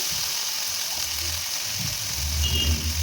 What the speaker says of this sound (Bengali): এখন ফোড়নে দিয়ে দিব আমি একটি শুকনো লঙ্কা, একটি তেজপাতা আর দিব গোটা জিরে।